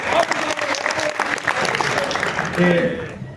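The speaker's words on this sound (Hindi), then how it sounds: "के लिए जोरदार तालियां।" A crowd at a teachers' rally in Saharanpur claps loudly and continuously, with voices and shouts mixed in beneath the sustained applause.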